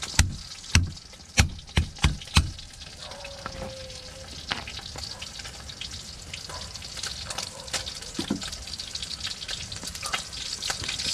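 Sweet potato fries in a pan with onion and garlic, giving a steady close sizzle after several sharp knocks of a utensil at the start, with no talking.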